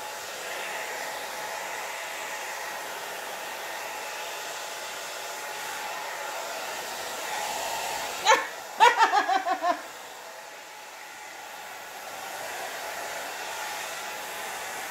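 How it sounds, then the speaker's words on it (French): A hair dryer blows steadily throughout, drying a child's hair during styling at a moderate, even level, with a brief ripple of giggling near the middle. "Les sèche-cheveux pour que ça sèche un peu."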